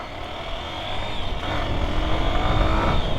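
A new motorcycle accelerates, its engine note building steadily into a strong, continuous roar heard close up with wind noise and no talking.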